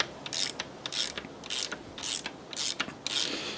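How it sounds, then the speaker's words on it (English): Nuts and bolts being unbolted on a Land Rover Series 3 under restoration, with repeated bursts of metallic ratcheting from a wrench in quick strokes separated by short pauses, close and moderately loud, with no talking. "No point just watching me unbolt a load of nuts and bolts"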